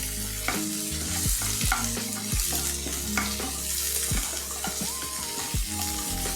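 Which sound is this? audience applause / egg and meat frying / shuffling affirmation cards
egg and meat frying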